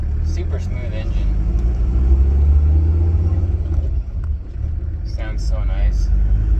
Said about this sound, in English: Super smooth engine.